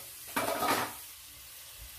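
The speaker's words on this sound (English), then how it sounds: "toss in your vegetables you just cut up. And you're going to go ahead and let this cook on low heat and simmer" Chopped vegetables tossed into melted butter in a pan, a short burst of sizzling and stirring that fades into a quiet low simmer, with no talking.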